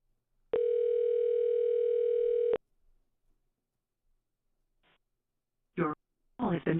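Telephone ringing tone while calling a friend, one steady electronic tone lasting about two seconds, then quiet before a few faint noises and brief speech near the end.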